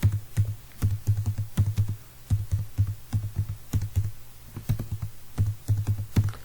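C code typed on a computer keyboard, a brisk, close run of clicking keystrokes in uneven bursts with short pauses, no voices.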